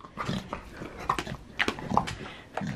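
Dog growling and snuffling while tugging on a new toy in play, close and moderately loud with short throaty bursts and scuffling, no clear talk.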